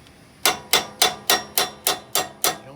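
Eight sharp metallic hammer blows ring out in a steady rhythm as a hammer strikes a wrench to break loose a blade bolt on a Cub Cadet XT1 riding mower, loud and close with no talking.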